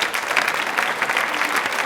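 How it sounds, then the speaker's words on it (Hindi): An audience at a DD Rajasthan quiz programme breaks into loud, dense applause, many hands clapping continuously at a strong, even level with no talking over it. "तालियां जोरों से शोरों से बजा दीजिए प्लीज"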